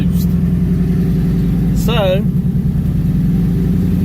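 2019 twin-turbo Ford Mustang EcoBoost idling high, a loud, steady engine drone with a throbbing low rumble throughout, while someone says a word partway through.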